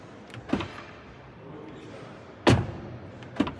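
A BMW iX3 50 xDrive car door shuts with a solid, close thud, set between two lighter knocks of handling, with quiet room ambience around it.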